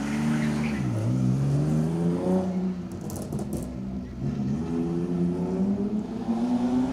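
A rally car at speed on an asphalt stage of the Manx Rally, its engine loud and close, the note climbing and dipping through gear changes in a continuous revving run.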